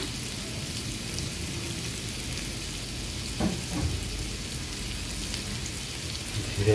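Beef pieces fry in a covered pan, turned now and then, with a steady soft sizzle and crackle throughout, a brief stir or clatter near the middle and another near the end; no speech.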